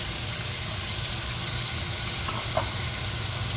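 Steady sizzling of an egg frying in a pan alongside stir-fried beef steak, a dense continuous crackle and hiss with no talking.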